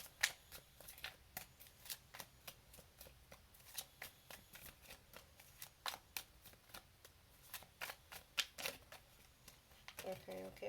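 A deck of cards being shuffled and dealt gives off a long run of quick, crisp riffling snaps and flicks, close and fairly quiet, in irregular bursts with brief pauses between them.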